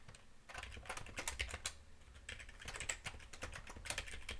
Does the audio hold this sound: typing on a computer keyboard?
yes